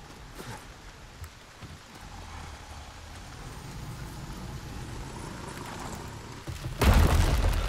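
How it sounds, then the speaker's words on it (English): Rain falling in the video game Resident Evil 4, a steady, hissing wash of downpour that slowly builds in loudness, with a few low thuds and a louder burst near the end. "I hate that it's raining, bro."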